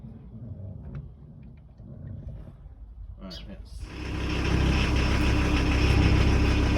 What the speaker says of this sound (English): Okay, so now I've got the engine running.